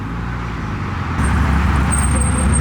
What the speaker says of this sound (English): Twin turbo Z28.